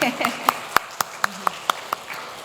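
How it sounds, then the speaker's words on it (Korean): In a women's worship service, a few people clap slowly for two missionaries, about eight sharp, evenly spaced claps, fairly faint and close together in rhythm. "우리 두 분 선교사님께 먼저 우리 박수를 한번 보내드릴까요?"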